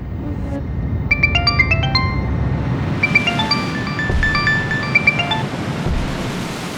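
A phone ringtone signals an incoming call, its melodic electronic tones repeating in two bursts over a steady rushing, wave-like background noise.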